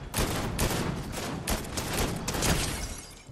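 Gunfire in the video game Fortnite: dense bursts of rapid shots and crackling fusillades running continuously at moderate loudness, with no voices over it.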